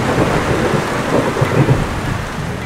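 Rain falls as a dense, steady hiss while low rumbles of thunder roll underneath, continuous and fairly loud, with no voices.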